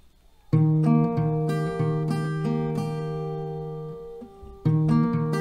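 Acoustic guitar playing the C part of a song slowly, with sustained plucked chords ringing close and clear, a pause near the end before the pattern restarts, and no talking.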